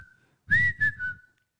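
A person whistles a short three-part tune, bright and close, with a brief pause between notes and a faint lingering tone at the end.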